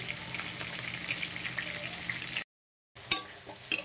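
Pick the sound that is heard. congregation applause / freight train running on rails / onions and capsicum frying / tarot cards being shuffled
onions and capsicum frying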